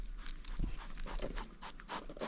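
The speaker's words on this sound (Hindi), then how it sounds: "ऐसे हाँप रही जैसे कुत्ता हाँपता है" A tired cat pants rapidly like a dog, a close, faint series of quick breathy puffs in an irregular rhythm, with no talking.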